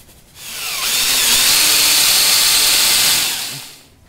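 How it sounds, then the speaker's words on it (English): A power drill spins up, holds a loud steady whir for a few seconds while countersinking holes in wood for boat seats and oarlocks, then winds down. "Now it's just a matter of drilling down and countersinking these"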